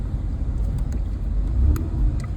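Road traffic in San Jose, California, as a steady low rumble of passing cars with faint higher ticks, fairly loud and continuous, with no talking.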